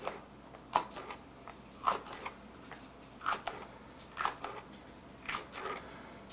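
Spinach leaves being cut on a kitchen board, with about five crisp snips or chops spaced roughly a second apart, close and moderately loud, with no talking.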